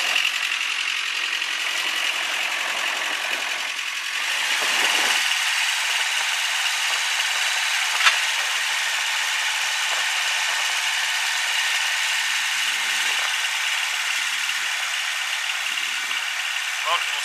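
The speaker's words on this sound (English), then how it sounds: "We're going to drive it around here and run the hydraulics," A Hyster H60XL forklift weighing just under 10,000 pounds runs with a steady engine drone and hydraulic whine while it drives around and works its multi-stage mast, heard at moderate distance with a faint click midway.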